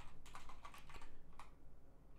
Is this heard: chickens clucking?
no